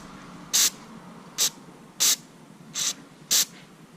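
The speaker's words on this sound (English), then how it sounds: "So we're going to have to go back to the carb cleaner. Okay. We're going to squirt it." Five short, sharp aerosol bursts of carb cleaner sprayed through a Mikuni carburetor from a pit bike during a rebuild, evenly spaced and close, with quiet gaps between each squirt.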